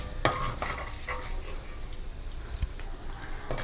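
Fried tomato pieces are scooped from a pan onto a plate with a spoon, giving soft scraping and clinking strokes over a steady low sizzle of oil in a home kitchen, with one sharp clink near the end.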